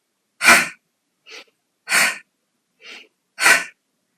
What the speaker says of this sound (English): we'll exhale overhead with the ha and inhale back down